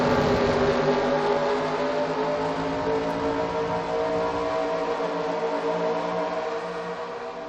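A race car roars past in a NASCAR-style racing video game at Charlotte, a steady, loud, buzzing engine drone with layered harmonics that holds throughout and eases slightly toward the end.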